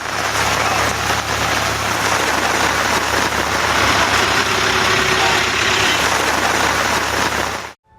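Heavy rain driven by strong wind during a downpour in a coastal Tamil Nadu town, a dense steady wash of noise lasting throughout with a low engine-like hum beneath, cutting off abruptly at the end.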